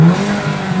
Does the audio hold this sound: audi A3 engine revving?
yes